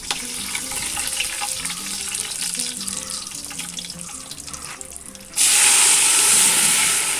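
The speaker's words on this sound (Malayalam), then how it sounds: "നമ്മളൊരു മൂന്ന് പാത്രം വെള്ളം ഒഴിച്ചു കൊടുക്കുന്നുണ്ട്" Running water pours steadily into a cooking pot of milky rice for several seconds, then the stream grows louder and brighter, a continuous close rush with no talking.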